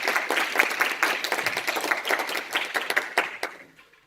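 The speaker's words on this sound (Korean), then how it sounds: "큰 박수 부탁드립니다" Audience clapping welcomes a teacher to the stage at a teachers' talk event, a lively, moderately loud burst of many hands that holds steady for a few seconds and then trails off to quiet.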